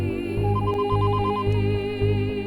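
A telephone rings in a Hindi-dubbed action film scene, a bright electronic ringtone pattern repeating in regular pulses over a low rhythmic backing, loud and close with no talk.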